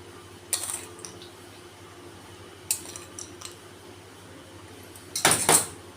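Dry fruits are added to poha in a pan, heard as three separate bursts of metallic clinking and scraping from a spoon against the pan, the last one loudest, with quiet pauses between.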